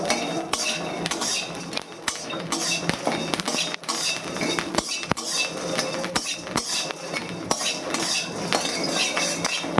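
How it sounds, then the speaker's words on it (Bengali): Whole spices dry-roasted in a kadai, stirred with a metal spoon: a dense, continuous rattle and clatter of utensil against the pan, with repeated sharp clinks close up. "এই মশলা কিন্তু পোড়ানো যাবে না, একদম হালকা করে ভাজতে হবে যাতে মশলাটা না পোড়ে"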